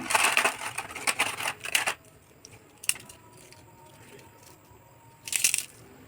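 Crispy fried rice-flour papad crunches in a few loud, close bursts: a rapid cluster of crackling bites at the start, a short snap midway, and another brief crunch near the end, with quiet pauses between.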